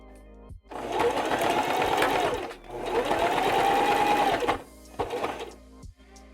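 Sewing machine stitching back over a seam line while building simple costume ears, running in two long steady bursts with a short pause between, then a few brief stops and starts at the end.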